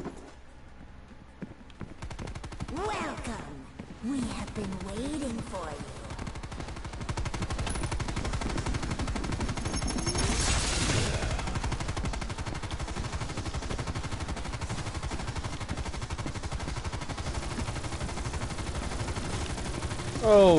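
Gunfire in Call of Duty Cold War Zombies rattles in rapid bursts under game music and effects, steady and moderately loud throughout, while a player talks over it.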